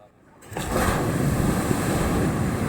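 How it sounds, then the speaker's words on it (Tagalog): Strong ocean waves on a North Luzon beach, a roaring surge that swells in after a brief quiet start and then holds as a loud, wind-buffeted wash. "Lakas ng alon."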